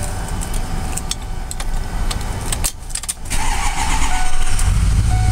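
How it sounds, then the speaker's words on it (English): A 2007 Ford F-250 Lariat diesel truck with a programmer cranks and fires up, settling into a steady loud idle after a brief pause, with keys jangling faintly beforehand. "Start up so you can hear it run."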